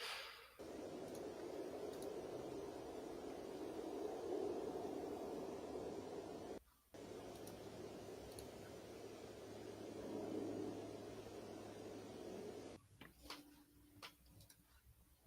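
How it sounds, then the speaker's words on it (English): A distant jet aircraft flies overhead in a long, steady, wind-like rush. It fades briefly once and then continues at a low, even level. "It's a jet, although it sounds like the wind."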